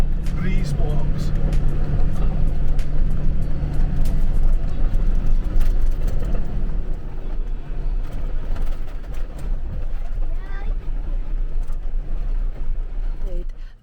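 Self-built 4x4 expedition camper truck on a corrugated road at dusk, a loud, constant rumbling roar with rattling and jolting from inside the cab, and people talking over it.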